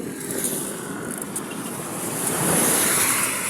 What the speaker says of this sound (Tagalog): Medyo malakas kasi ang hangin eh